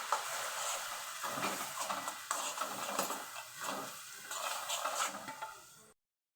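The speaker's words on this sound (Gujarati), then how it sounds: "ચપટી હિંગ નાખી અને જે આપણે લસણ મિક્સ કર્યું છે એ વઘારી નાખશું" Garlic and a pinch of asafoetida tempering in hot oil for a chutney, giving a steady close sizzle with bursts of crackle and intermittent stirring scrapes, then cutting off abruptly.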